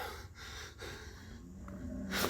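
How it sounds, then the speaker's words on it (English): Someone snoring beneath the floorboards of a remote cabin at night, slow rasping breaths with a snorting catch, faint and muffled, a louder breath at the end, no voices. "That's someone snoring, bro."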